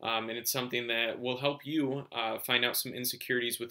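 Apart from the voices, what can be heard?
No distinct noise like a dog, phone or traffic.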